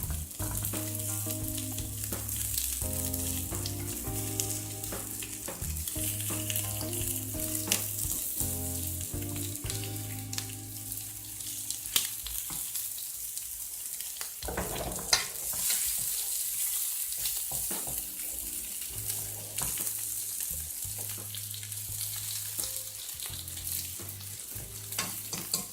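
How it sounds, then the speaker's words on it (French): Small pieces of cooking sausage brown in a pan, sizzling loudly and steadily for a long stretch. A faint tonal hum runs underneath and no voices are heard. "Alors, on fait revenir les petits morceaux. Faut que ça soit bien doré quand même."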